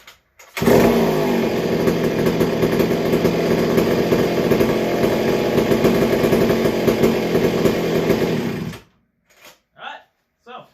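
McCulloch 797 chainsaw fitted with a Stihl 090 carburetor, roaring loud and steady at close range for about eight seconds before cutting off abruptly, followed by brief speech.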